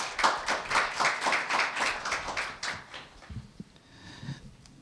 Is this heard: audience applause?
yes